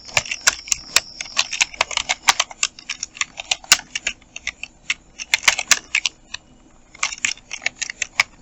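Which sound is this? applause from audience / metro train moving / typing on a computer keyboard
typing on a computer keyboard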